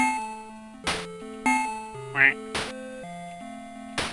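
Game sounds from a retro duck-shooting video game: a brief electronic quack burst in the middle of a tinny, tuned synth melody punctuated by sharp chiming hits, all fairly quiet and with no talking.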